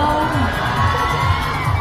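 Crowd of fans screaming and cheering at a summer campaign event in Thailand, a dense continuous roar of high-pitched shrieks and whoops with no clear talk.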